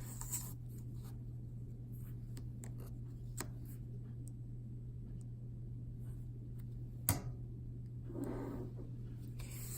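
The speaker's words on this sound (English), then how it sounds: "Let me just draw my x and y axes on my graph paper." Pencil drawing x and y axes on graph paper, a few faint scratchy strokes and taps against a quiet room hum, with one brief louder knock partway through.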